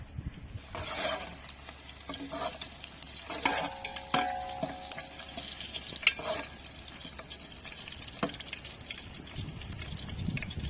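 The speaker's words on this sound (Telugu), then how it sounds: "నెక్స్ట్ చికెన్ అయితే వేస్తున్నాము చెట్టు కింద వంట చేస్తుంటే మస్తు అంటే మస్తు అనిపిస్తుంది" Chicken frying and being stirred in a pan outdoors under a tree, with steady sizzling broken by repeated scraping stirs and clinks, close and moderately loud, no talking.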